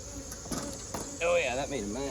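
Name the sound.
agitated honeybees buzzing around an opened hive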